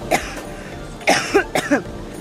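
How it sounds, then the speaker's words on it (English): Three short, harsh coughs, one and then a quick pair, close to the listener over quiet room noise. "I do have quite a cough"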